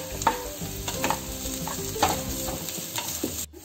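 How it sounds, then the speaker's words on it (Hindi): Onions, French beans and carrots frying and being stirred in a pan, with a steady sizzle and periodic scraping stir strokes roughly once a second, close and moderately loud with no talk. "प्याज को भी दो मिनट तक फ्राई कर लेंगे। इसमें फ्रेंच बीन्स को ऐड करेंगे और गाजर को, इसको भी अच्छे से पका लेंगे।"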